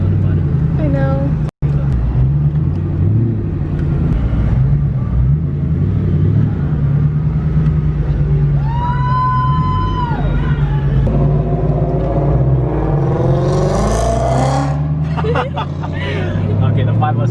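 A supercharged 5.0 Ford Cobra engine rumbles loudly and steadily up close, its deep idle swelling into revs, while people chat nearby and another car's whine briefly rises and passes.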